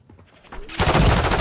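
Gunfire in Call of Duty Modern Warfare III starts as faint shots, then becomes a loud, rapid burst of automatic fire at close range.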